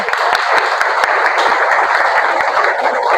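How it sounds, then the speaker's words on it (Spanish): A church congregation gives loud, dense welcoming applause, many hands clapping close together in a steady, even roar for the whole stretch. "Vamos a darle un aplauso de bienvenida a Lorena, por favor."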